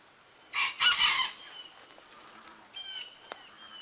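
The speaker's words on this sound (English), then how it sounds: "My happy chickens," Chickens clucking close by as they eat weeds, a loud burst of squawky clucks followed by quieter, scattered calls.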